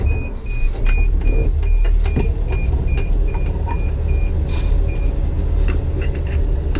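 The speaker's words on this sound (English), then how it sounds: "Even the seatbelt sensor still works on it, which is pretty cool." A steady repeating seatbelt warning chime beeps evenly over the loud drone of a moving 1982 Toyota Land Cruiser FJ40's engine and road noise.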